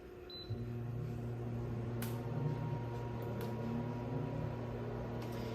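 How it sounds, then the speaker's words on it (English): A Nuwave Todd English Pro-Smart digital oven preheats with a steady, fairly quiet mechanical hum and fan whir that holds a low tone, with a few faint clicks and a high beep near the start. "As you can see, the oven itself isn't too loud."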